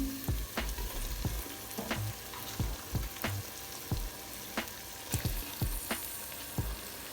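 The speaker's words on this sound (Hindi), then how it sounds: "जैसे ही हम चिकन फ्राई करते जाएंगे टमाटर हमारा जो है मसाले में मेल्ट हो जाएगा" Chicken frying with chopped tomato and spices for nihari, a constant sizzle punctuated by frequent rhythmic scrapes and knocks of a spoon stirring against the pot, close and with no speech.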